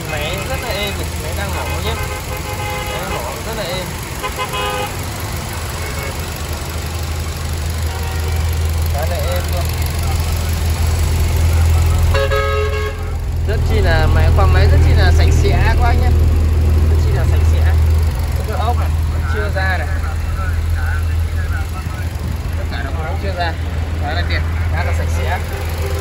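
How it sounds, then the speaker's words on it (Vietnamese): A Hyundai Accent's engine idles with a low, steady, smooth hum throughout while someone talks over it close by. "Đây máy rất là êm, máy đang nổ nhé, máy nổ rất là êm."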